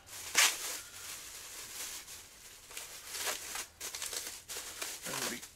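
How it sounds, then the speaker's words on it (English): Soft crinkling and rustling of thin plastic as a bag is carefully unwrapped from a new Kenwood DDX392 car stereo, with intermittent faint crackles and one sharper crinkle near the start, quiet and close. "I'm gonna be careful here. I don't want to tear that nice plastic bag too much."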